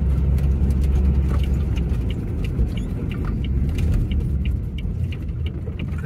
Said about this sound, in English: There's something caught in the wheel.